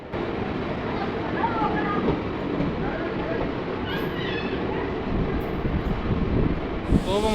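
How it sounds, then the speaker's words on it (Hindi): The Haldighati Express rolls into Chanderia railway station with a continuous low rumble and rattle of rail cars, steady and fairly loud, along with wind buffeting the microphone and a faint squeal near the end. "तो अब हमारी ट्रेन आई है"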